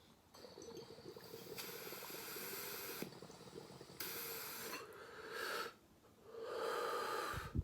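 A dab is inhaled from a Carta e-rig, with a long, steady hissing draw and gurgling water, a few brief pauses, and a sharper burst of breath near the end, heard up close and fairly quiet.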